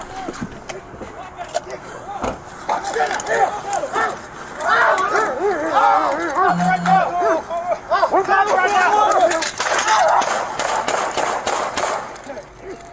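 A dog attacks and bites in a violent confrontation, with barking and growling mixed under loud, agitated shouting from several voices throughout.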